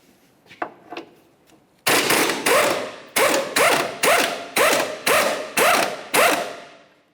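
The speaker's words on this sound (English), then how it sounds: "Let's go ahead and use a 21mm socket to remove that." A ratchet with a 21mm socket loosens the rear control arm bushing bolt on a 2005-2010 Chevrolet Cobalt, starting with a couple of faint clicks, then six even bursts of loud, rapid ratcheting, close up.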